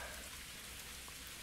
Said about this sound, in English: And it's raining again, so I can't use fire.